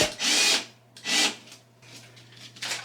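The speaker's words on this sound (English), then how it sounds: "I can drill a new hole." A power drill boring a new screw hole for a wall-mounted clothes drying rack, two loud bursts about half a second each followed by softer, shorter whirs, with a faint steady hum underneath.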